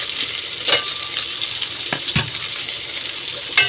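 Carrot pieces, slit green chillies and chopped tomatoes sizzle in a pan for a chicken fry biryani, a close steady hiss with a few clacks of a spoon against the pan.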